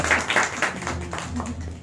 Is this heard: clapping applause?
yes